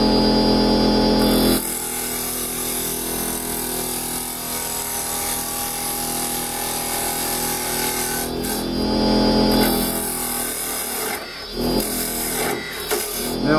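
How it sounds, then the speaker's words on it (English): A square carbide chisel cuts a tenon on softwood spinning on a wood lathe with a step centre. The lathe hums steadily and the chisel makes a gentle scraping, rubbing cut throughout, with no talking. "we use a square carbide chisel, get the tenon put on this end. Nice and gentle, small cut."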